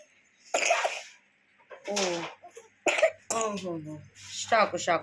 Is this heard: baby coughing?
yes